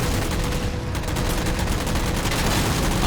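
The Mantis mech unleashing missiles in the Halo 4 video game, a dense, loud, continuous barrage of rapid explosive firing blasts that fills the whole stretch without letup.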